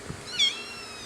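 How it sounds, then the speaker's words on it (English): A single short meow from a baby kitten, clear and close, rising and falling once in an otherwise quiet moment. "New baby kitten."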